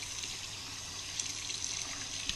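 Tap water runs steadily into a basin being filled for rinsing handspun yarn, a soft continuous splashing hiss, quiet and close, with no talking.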